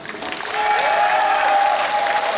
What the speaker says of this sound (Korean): 여러분들의 응원의 박수로 시작하겠습니다